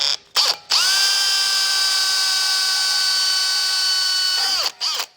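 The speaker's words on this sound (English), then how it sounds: "So first I'm drilling some pilot holes." A power drill whirring at high pitch with a tiny bit, drilling pilot holes for a diesel air heater mounting flange: two brief bursts, a long steady run that winds down, then a short final burst.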